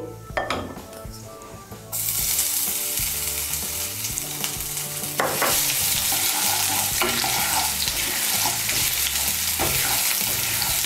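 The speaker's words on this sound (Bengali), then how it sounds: "আদাটা দিয়ে একটু নাড়াচাড়া করে নিয়ে" Crushed ginger stirred in hot oil in a pan, with a sharp burst of sizzling that starts a couple of seconds in and grows louder. A spoon scrapes the pan as it stirs, and no one speaks.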